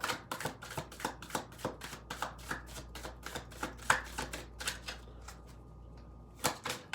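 Tarot cards shuffled by hand in quick, evenly spaced riffling snaps, a steady rapid patter that pauses briefly near the end before a final couple of flicks, fairly quiet and close.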